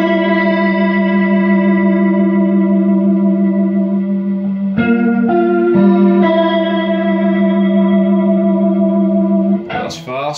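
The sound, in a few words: guitar through Leslie rotating speaker spinning fast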